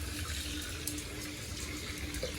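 Water runs from a tap in a continuous, even splashing stream, heard alone and at moderate level throughout.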